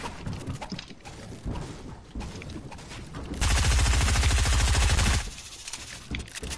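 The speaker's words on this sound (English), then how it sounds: "I'm shooting it down" Rapid automatic gunfire in a Fortnite Battle Royale box-fight match, a dense sustained burst of shots lasting under two seconds, loud and close, with scattered quieter game sounds before and after.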